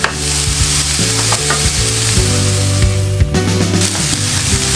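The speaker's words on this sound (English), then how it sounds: "you want to take your time and just fry it" Cabbage stir-fries in a pan, a loud continuous sizzle with scraping stirs and clatter running steadily throughout, close and without talk.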